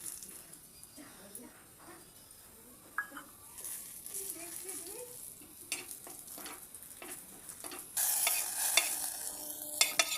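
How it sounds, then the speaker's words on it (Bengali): Dried fenugreek leaves fry in hot ghee with a soft, faint sizzle. A spoon stirs them with light scraping, and a sharper burst of sizzling rises near the end. "ঘিটা গরম হয়ে গেছে, এবার কস্তুরি মেথিটা ঘির মধ্যে দিয়ে দেবো।"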